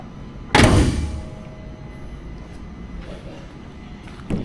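A 1971 Monte Carlo gets a single loud, heavy slam as a panel is shut, then a quiet outdoor background and a softer knock at the end.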